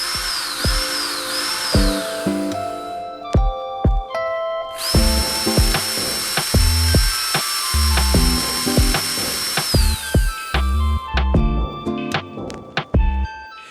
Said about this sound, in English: Stone resists drilling. The bit heats up. Water must be added for cooling.